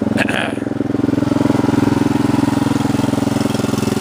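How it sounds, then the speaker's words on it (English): A Craftsman R110 riding lawn mower's engine runs near and loud, holding a steady, even idle with a rhythmic low thrum after a brief click at the start. "So the engine's running good on her now."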